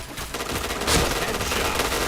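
Rapid video-game gunfire in a shooter match, a dense rattling burst of automatic shots that swells near the middle and continues to the end.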